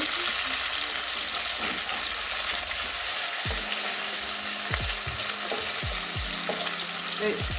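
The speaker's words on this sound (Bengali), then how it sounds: "মাছগুলো আমার ভাজা হয়ে গেছে, দুদিকেই লাল লাল করে ভেজে নিয়েছি" Pieces of katla fish frying in oil in a pan, a strong continuous sizzle with recurring scraping and knocking as the pieces are moved and turned.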